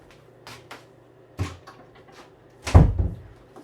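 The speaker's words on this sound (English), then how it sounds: "Let me close this door while I finish this" A door being closed indoors: a few light shuffles and knocks, then a solid thump of the door shutting, followed by a short rattle as it settles.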